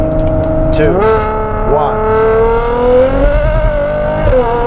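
Ferrari Purosangue SUV fitted with the Novitec Esteso widebody kit accelerating, its engine note climbing steadily in pitch through a long pull with a brief dip mid-run, loud and close, heard from inside as people talk over it.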